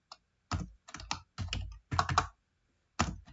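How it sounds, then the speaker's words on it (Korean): Clacking keystrokes on a computer keyboard in several quick bursts separated by short pauses, close and fairly loud, with no voices. "선생님 마저 입력할게요 엔터 두 번 치고"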